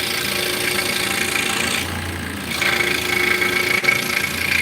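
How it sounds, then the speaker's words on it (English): Scroll saw with a reciprocating blade cutting wood, a steady close buzzing rasp that runs throughout, with a slight shift in tone partway through and no talking. "the stroll saw is very good at cutting wood"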